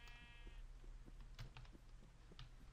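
Sheep in the Minecraft video game give a short bleat at the start, faint under steady clicking and tapping of keys and mouse.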